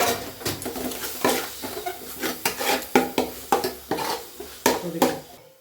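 Ginger garlic paste stirred into sautéed shallots in a pan for chicken curry, a steady rhythm of loud spoon scrapes and knocks against the metal over a soft sizzle.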